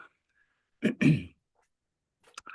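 A throat clearing followed by a short cough, then a brief rasping throat sound near the end; close and fairly loud, with silence between.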